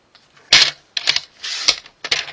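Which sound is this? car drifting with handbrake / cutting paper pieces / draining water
cutting paper pieces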